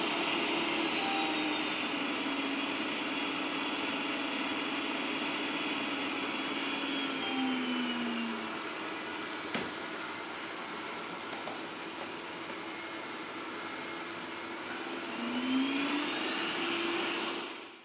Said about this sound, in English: Now for vacuuming you have 3 degrees of noisiness really, or strength of your vacuum, and at the quietest it's actually very quiet.